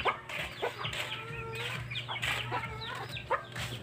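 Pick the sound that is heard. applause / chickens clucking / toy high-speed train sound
chickens clucking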